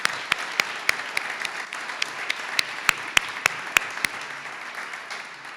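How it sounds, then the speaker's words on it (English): Audience at a gift announcement event giving a short round of applause, soft background clapping punctuated by a series of sharp, close individual claps at an uneven rhythm. "Robert, would you stand for a quick moment of applause, please?"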